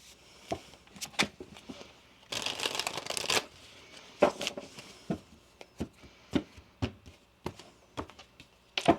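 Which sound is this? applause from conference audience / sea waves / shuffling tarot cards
shuffling tarot cards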